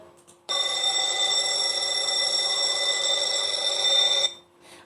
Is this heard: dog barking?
no